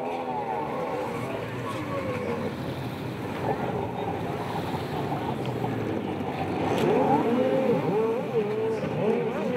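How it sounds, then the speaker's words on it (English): Personal watercraft engines idle and rev at the start of a GP ski race, a dense drone of several engines growing louder toward the end, with faint wind and water noise underneath. "Everybody's got the engines fired up here."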